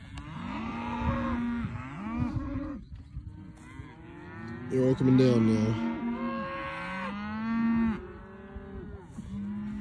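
Cattle on a horse ranch moo repeatedly in loud, drawn-out calls, several animals overlapping near and far, while someone speaks briefly among them.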